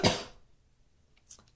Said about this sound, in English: was hoping that cough was almost gone